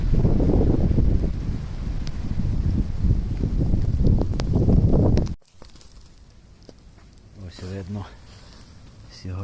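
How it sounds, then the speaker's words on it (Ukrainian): Strong wind in a spring snowstorm in the Carpathian mountains buffets the microphone with a heavy rumbling roar for several seconds, then drops to calm, and a voice speaks briefly near the end. "сьогодні вітряно"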